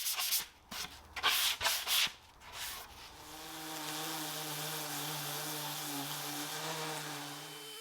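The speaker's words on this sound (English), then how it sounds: "This should help eliminate most of the swirl marks left behind from the power sanders." Power sander working over an antique painted dresser: a few scratchy sanding strokes come first, then a steady, moderately loud motor whine holds on its own to the end.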